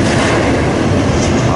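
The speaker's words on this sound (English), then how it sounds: "This is the third train that has gone by since I got here, not even 15 minutes ago." Norfolk Southern train passing Elkhart station in Indiana, a loud, close, continuous roar of rolling wagons and wheels that fills the moment with no voices.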